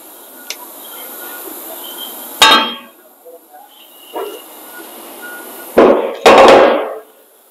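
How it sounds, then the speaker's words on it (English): Several sharp metallic hammer strikes on a Fiat 500 rear brake rotor at uneven intervals, close and loud, with a pair of heavy blows near the end and faint clinks between. "hit it with the hammer."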